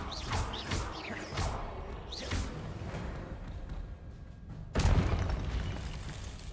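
Confringo blasting spell explosion from a Harry Potter video game: several sharp whooshing bursts early on, then a loud booming blast near the end that lingers as rumbling debris.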